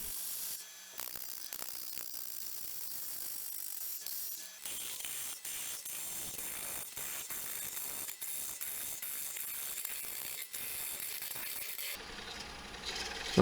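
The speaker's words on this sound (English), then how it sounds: "here I'm just scooping out material on the inside, just pushing down toward the base of the bowl" A bowl gouge scoops out the inside of a large dry cherry burl bowl spinning on a lathe, a steady continuous scraping hiss with rapid rough ticks, close and loud, ending in a brief change of tone.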